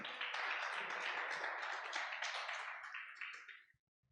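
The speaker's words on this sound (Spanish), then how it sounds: "Dele un fuerte aplauso a Dios" A church congregation applauds during a Spanish-language sermon, a dense sustained clapping that holds steady for several seconds and then fades out quickly.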